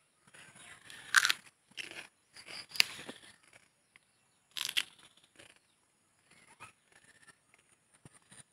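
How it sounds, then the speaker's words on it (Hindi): Someone bites and chews a raw green chilli outdoors, giving a few close, sharp crunches followed by softer chewing and pauses. "तो अभी मैं इस हरी मिर्ची को खा के देखता हूँ ये।"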